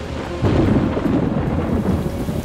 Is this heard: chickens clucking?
no